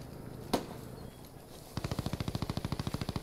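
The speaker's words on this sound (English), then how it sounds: "taking some sporadic fire" Gunfire in Post Scriptum starts with one sharp shot, then a long, fast automatic burst of evenly spaced reports that sounds fairly close and loud.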